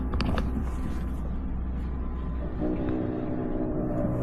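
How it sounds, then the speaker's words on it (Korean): A steady low mechanical hum and drone of a camper van's air conditioner outdoor unit running, continuous and close, with a few faint clicks. "이제 실외기가 돌아가는 소리가 들리거든요"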